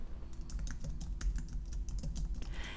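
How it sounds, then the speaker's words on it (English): Rapid clicking of computer keyboard keys as a company name is typed into a logo maker, close and steady with uneven key rhythm and no talking. "all I have to do is type in the company name right here"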